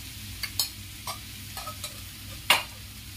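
Ghee spooned into a sizzling besan curry in a pan: a low steady sizzle broken by several brief scraping stirs and one louder burst near the end, with no talking.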